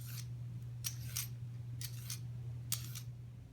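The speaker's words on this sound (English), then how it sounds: "I've got my rinsed carrots and I'm going to peel them so they're ready to chop." Rinsed carrots are peeled with four or five crisp, scraping strokes at a steady pace, heard close and alone over a low, constant hum.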